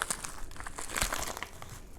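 A 1970s Long Range Patrol ration food packet, Menu #7 Beef Stew, is unwrapped from its own plastic bag. Close, crisp plastic crinkling and rustling comes in short bursts, with a sharper crackle about midway, and no voices.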